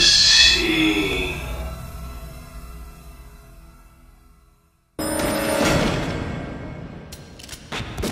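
A telephone bell rings in short bursts, followed after a brief silence by a louder, busier stretch with sharp hits.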